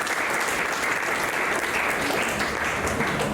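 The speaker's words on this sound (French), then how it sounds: "J'aimerais donc prendre une ovation très forte." Steady, dense applause from an audience at a youth senate investiture ceremony in Kouma, a loud continuous ovation of many hands clapping that fills the whole stretch without a break.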